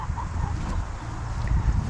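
An old chicken on a farm clucking softly, a few faint low clucks in an outdoor setting against a steady rumble of wind and farm noise, with no talk.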